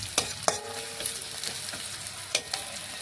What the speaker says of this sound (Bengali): সেই বাটা মশলা ঢেলে দেব।